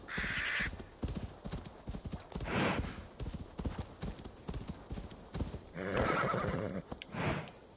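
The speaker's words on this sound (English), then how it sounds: "Okay, I don't think my horse can go any further." A horse in Assassin's Creed Valhalla whinnies loudly at the start and again near the end, with hooves clopping and shuffling between the neighs.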